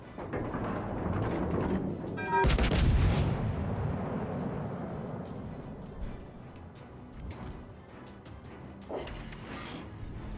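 Battleship main guns firing in a naval video game, one heavy booming salvo followed by a long rumbling decay and fainter distant reports, loud with no talking.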